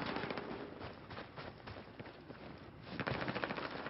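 Rapid bursts of automatic gunfire crackle throughout a Call of Duty Domination match on the Locker map, dense and steady and growing louder near the end.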